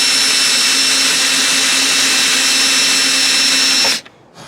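A power drill runs steadily and loudly while drilling out an RV roof vent fan, holding one continuous whine for about four seconds before cutting off abruptly into near silence.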